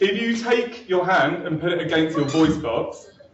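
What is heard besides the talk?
No everyday noises stand out.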